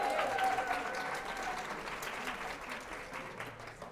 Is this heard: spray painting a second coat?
no